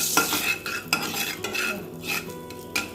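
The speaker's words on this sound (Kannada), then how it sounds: "ಆ ಕಡೆಗೆ ಸ್ವಲ್ಪ ಕ್ಯಾಪ್ಸಿಕಮ್ ಫ್ರೈ ಮಾಡ್ಕೊಳ್ಳೋಣ" Capsicum stirred and frying in a small amount of oil with chilli powder and salt in a pan, a spoon scraping repeatedly against the metal over a steady soft sizzle, close and moderately loud.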